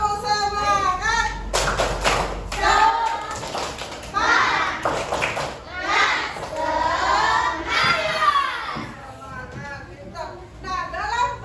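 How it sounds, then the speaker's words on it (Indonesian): Children chant and clap together in a quick rhythmic pattern, lively group voices mixed with sharp claps, fairly loud and close. "tepuk semangat lagi yuk. Tepuk semangat."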